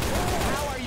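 Gunfire in Left 4 Dead 2 during a Tank fight, a dense, continuous burst of rapid shots filling the moment at close range, loud and unbroken.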